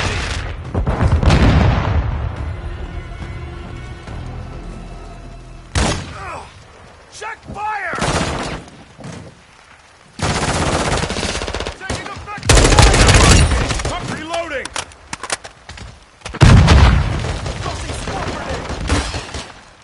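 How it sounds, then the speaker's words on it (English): Grenade blasts and bursts of gunfire ring out in a team deathmatch video game, loud booming impacts and rapid shots arriving in clusters separated by short lulls, with voices calling out over the action. "Throwing grenade!"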